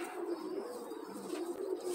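Male pigeon of the Van den Wouwer / Gaston De Kaasboer line cooing in a loft, a soft low repeated coo at close range, steady and alone over faint background hiss.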